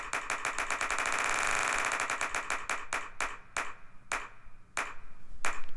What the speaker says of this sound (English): I can clap once and then I can play them in and loop them